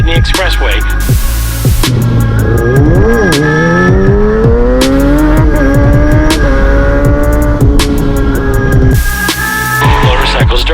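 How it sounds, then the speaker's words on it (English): Motorcycles, dirt bikes and ATVs riding on an expressway during a Miami bikelife MLK rideout, with loud, close engines revving and rising in pitch over one another in a continuous roar, plus bursts of hiss. "Motorcycles, dirt bikes, and ATVs are out in force today"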